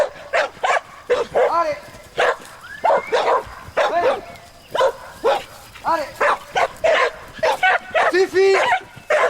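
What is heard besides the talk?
dogs barking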